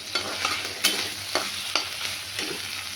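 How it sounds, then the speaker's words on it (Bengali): Spice paste of ground poppy seed, cumin and ginger with tomato being stirred in a frying pan, with soft sizzling under several distinct scraping strokes of the spatula, close and moderately loud. "নাড়তে হবে ভালো করে একটু।"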